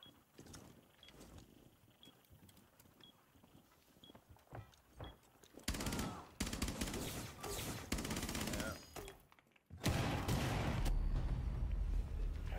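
Gunfire in the Rainbow Six Siege video game, with a round ricocheting. Loud dense bursts of shots and mechanical clatter build after a quieter stretch, with a brief gap near the end before more heavy firing.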